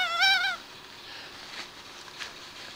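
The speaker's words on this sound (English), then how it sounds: "When you turn the doll over, of course, you hear her cry." A 1974 Horseman doll's stomach crier gives one short, wavering, bleating cry as the doll is turned over, fairly close, followed by near silence with faint handling noise.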